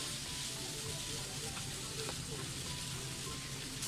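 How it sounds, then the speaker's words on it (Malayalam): Chopped onions sautéing in a pan over a low-to-medium flame for Thalassery beef dum biryani give a steady, soft sizzle that runs unbroken with no talking. "അതുവരെ നമുക്ക് നന്നായിട്ടൊന്ന് ലോ ടു മീഡിയം ഫ്ലെയിമിലിട്ട് വഴറ്റി കൊടുക്കാം"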